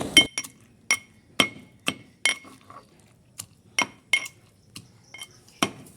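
Boiled soybeans being mashed for soybean chops, heard as a steady series of sharp clinking, pounding knocks, about two per second, close and loud with nothing else around.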